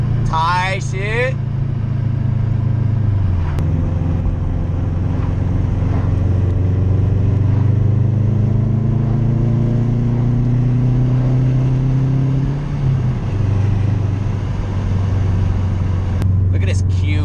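Loud Subaru WRX exhaust drones steadily while driving. The engine note rises in a long sweep of acceleration, then drops sharply and settles back to a lower rumble. Brief sharp pops from the exhaust come near the start and the end.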